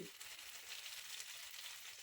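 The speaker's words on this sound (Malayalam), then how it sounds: "ആ ഓയിലിൽ നമുക്ക് ചിക്കൻ്റെ പീസ് ഓരോന്നായി എടുത്ത് ഫ്രൈ ചെയ്തെടുക്കണം" Half-cooked chicken pieces, pressure-cooked for shawarma, fry in oil over high flame with an even, close, continuous sizzling hiss for a couple of seconds.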